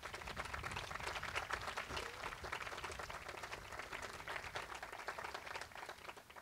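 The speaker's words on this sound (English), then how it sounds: "Let's give them a round of applause." An audience applauding at an outdoor groundbreaking ceremony for a university building, steady scattered clapping from a crowd heard faintly at a distance and continuing throughout.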